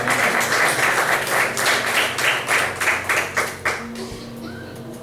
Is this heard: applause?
yes